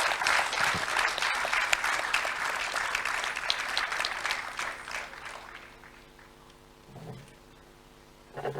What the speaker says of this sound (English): applauding our participants.